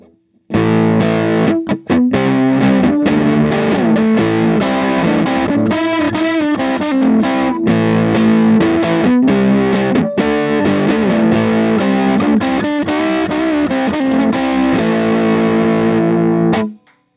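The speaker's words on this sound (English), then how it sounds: "we're going to drive the tubes as hard as we possibly can. Maximum volume." Heavily distorted electric guitar through a Vox AC4TV tube amp cranked to maximum, loud sustained chords and riffs ringing out continuously, then stopping.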